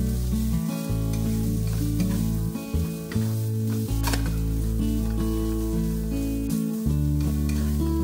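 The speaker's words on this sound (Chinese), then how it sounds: "榨菜和沙拉笋炒香" Pickled mustard greens and bamboo shoots stir-frying in a wok give a steady sizzle, largely covered by loud continuous music.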